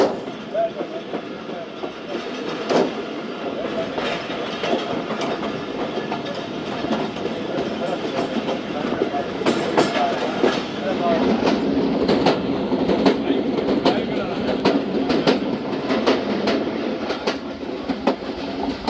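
Thal Express passenger train rolling through hilly country over a river bridge, a steady loud rumble of wheels on rails with repeated clickety-clack beats and occasional sharp squeals throughout, a faint voice now and then.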